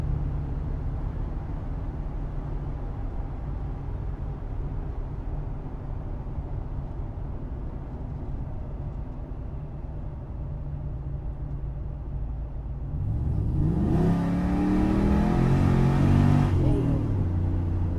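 A 6.0 LS V8 swapped into a Jeep Cherokee XJ idles steadily for several seconds, then the throttle blips and the engine revs up loudly, its pitch sweeping upward before settling.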